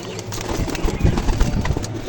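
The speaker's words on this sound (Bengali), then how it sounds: "খুবই ছটপটে পায়রা, দেখতে পাচ্ছ খুবই ছটপট করে।" Lively pet pigeons, a pair of fancy breed birds, cooing in low repeated throaty bursts close by, loud and continuous over a soft background.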